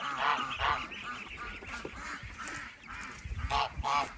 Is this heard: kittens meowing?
no